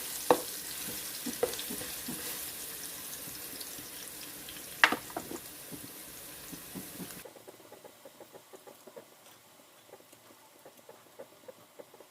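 Spice paste with spring onion and coriander root stir-fried over low heat for Thai braised pork leg: a faint, steady sizzle with soft scraping stir strokes and occasional clinks, quiet and without talk.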